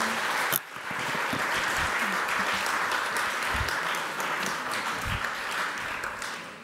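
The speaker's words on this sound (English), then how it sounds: "Thank you for your applause" Sustained applause from an audience at the close of a lecture on Soviet history, dense and steady throughout with a brief dip near the start, filling the room without any voices.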